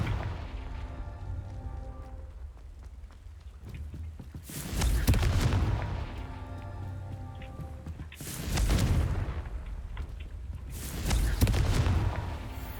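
Spell explosions from Confringo in a Hogwarts wizarding video game: three loud booming blasts spaced a few seconds apart, each a broad burst that fades, over a steady low rumbling game background.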